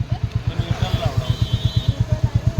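A Royal Enfield Bullet motorcycle thumps close by with its characteristic steady, rapid single-cylinder pulse, idling and pulling away gently as the clutch is released. People talk over the engine.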